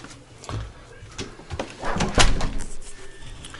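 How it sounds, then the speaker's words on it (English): A door swinging open and closed in the wind, with a few knocks and rattles and one sharper bang midway, near and moderately loud. "My door is opening and closing in the wind."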